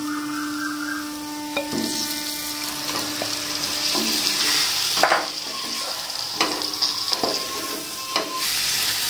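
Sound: marinated chicken added to masala gravy, sizzling

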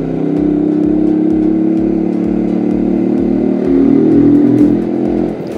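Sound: Italika FT 125 motorcycle engine and exhaust revving

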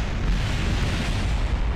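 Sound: rocket explosion in Kerbal Space Program video game

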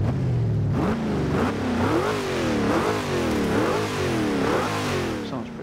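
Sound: Oldsmobile Hurst 442 engine revving, from a video game

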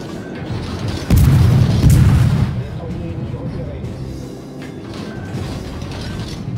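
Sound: warship main guns firing in World of Warships video game

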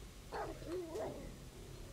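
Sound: dog barking in 7 Days to Die video game

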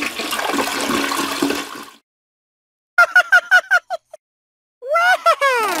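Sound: toilet flushing

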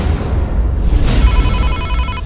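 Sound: telephone ringing in Sakura School Simulator video game

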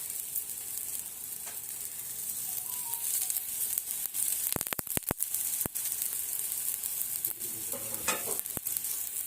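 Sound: besan poli (gram flour flatbread) roasting with oil on a pan

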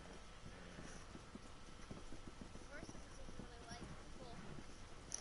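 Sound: horse hooves clip-clopping in a video game

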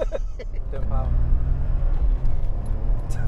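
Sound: 1992 Lotus Carlton turbo engine revving

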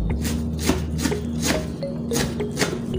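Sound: knife slicing blanched water leaf

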